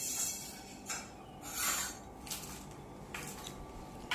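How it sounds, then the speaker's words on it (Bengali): Sandalwood being ground into paste on a stone, with close, quiet rasping rubs coming in short repeated strokes. "আমি এই প্রথম চন্দন বাটলাম।"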